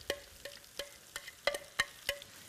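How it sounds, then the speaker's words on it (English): Granny Smith apples sautéing in hot melted butter in a pan, heard as a quiet sizzle broken by a series of sharp, regular stirring clinks and scrapes, about six evenly spaced hits, with no talking. "You can hear the sizzle, the saute."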